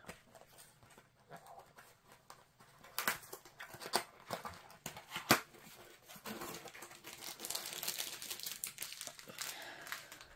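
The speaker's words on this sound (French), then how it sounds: "Donc voici la boîte, c'est une boîte en carton. On ne voit pas ce que c'est, je vais l'ouvrir." A cardboard box is torn open and unpacked, with steady crinkling, tearing and rustling of packaging close by and fairly quiet, broken by a few sharper cracks of cardboard.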